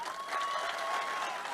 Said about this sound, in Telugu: ఉప సర్పంచులు గట్టిగా ఒకసారి చప్పట్లు